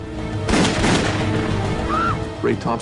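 Sharp gunshots go off in a reenactment aboard an aircraft, with a cluster of loud bangs near the start and another burst toward the end. Voices are heard between the shots.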